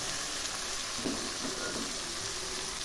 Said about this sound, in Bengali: সবজিগুলো আবারও একটু নেড়ে দিচ্ছি